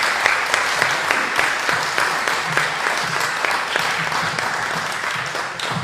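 Audience applause at an Alzheimer's Association event after a talk, a dense steady wash of many hands clapping close by, continuing evenly throughout without voices.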